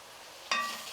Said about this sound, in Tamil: தண்ணியெலாம் ஊற்றாமல் இந்த எண்ணெயிலே வந்து இந்த தொக்கு வந்து நல்லா வதங்கணும்